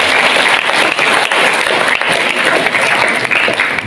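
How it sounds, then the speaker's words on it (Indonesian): A school audience at SMA Negeri 1 Gondang's prize-giving event bursts into loud, close applause, a dense, continuous clatter of many hands that stays strong throughout. "Untuk itu tepuk tangan sekali lagi untuk kita semua"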